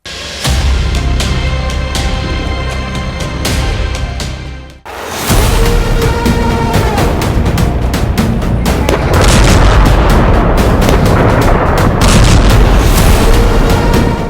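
Heavy booming blasts and sharp cracks from Russian drone and missile strikes on Kyiv, loud and continuous with a sudden break midway before the explosive din resumes.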